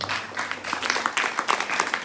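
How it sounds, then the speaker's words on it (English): An audience claps for a couple marking their 40th wedding anniversary at a Navratri celebration night: brisk, fairly close applause with an irregular patter of many hands, lightly mixed with crowd murmur. "give us a couple of nice rounds of applause"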